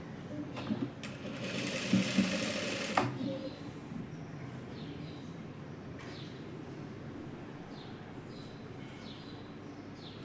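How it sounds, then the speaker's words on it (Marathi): A sewing machine stitches fabric for a dress made from leftover cloth, giving a close burst of rapid mechanical whirring for about two seconds before it stops. Quieter handling and faint background noise follow. "टर्न करायच्या अगोदर शिवून घेते, कारण ही शिलाई मग आतमध्ये दिसणार नाही."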